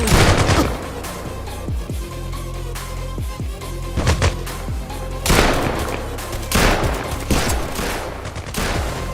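Gunfire from the video game Bullet Rain: loud, dense bursts of automatic shots and booming blasts in rapid overlapping volleys, continuing for the whole stretch with brief lulls between barrages.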